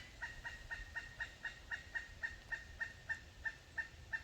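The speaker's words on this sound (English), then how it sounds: "I have a bird visitor." A bird gives a long, evenly spaced series of short, sharp calls, about fifteen in a row, at a hiker's stealth camp on a forested mountain trail; faint and somewhat distant, with no talk.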